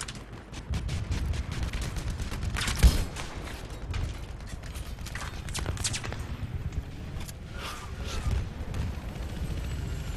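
Steady suppressing gunfire in a Battlefield 3 multiplayer match on Kharg Island, a constant rattle of bursts with mechanical clanks and one sharper crack, fairly close and continuous throughout, with no talking.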